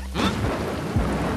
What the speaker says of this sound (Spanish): Pero como había una lluvia torrencial, Moe no se anima a salir